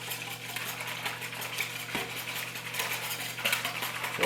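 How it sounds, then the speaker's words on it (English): Whisk beating a canola oil mixture for bread dough in a bowl, a rapid rhythmic clicking and scraping of metal on the bowl with a few sharper knocks, quiet and close, no voices. "Then what I do is I just whisk that up"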